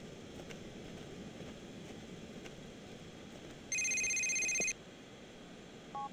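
Phone ringing in the video game GTA IV: a single electronic ringtone burst of about a second, clear and prominent over a low ambient game hum, followed by a brief short chirp.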